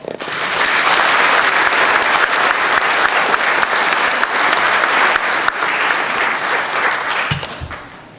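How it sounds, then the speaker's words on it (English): Loud, enthusiastic applause from a sizable audience at a Navy graduation ceremony, continuous clapping that swells quickly and fades away at the end. "Give them a round of applause"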